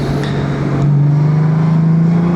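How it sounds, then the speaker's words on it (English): A 2025 Honda Gold Wing GL1800 DCT motorcycle runs with a steady, deep exhaust drone that rises slightly in pitch, loud and continuous with no talking. "The sound, it's so profound, but it's not annoying. The sound of the exhaust."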